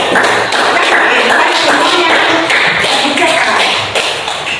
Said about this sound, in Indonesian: Beri aplaus untuk Nadine.